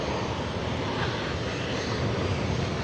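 Steady, loud roar of a jet airliner, a Boeing 767 without winglets, at San Jose airport. The broadband engine noise holds even and continuous throughout with no break and no voices.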